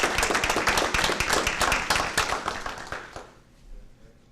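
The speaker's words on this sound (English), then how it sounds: "I think we should give you a round of applause" A small group at a board meeting gives a round of applause, quick sparse hand claps that start fairly loud and fade out over a few seconds into near quiet.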